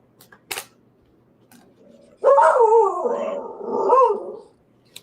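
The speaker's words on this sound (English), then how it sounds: "she's barking at something" A dog barks and yips in a run of excited calls near the microphone, starting with a couple of short sounds and then a longer sustained stretch, with nobody speaking over it.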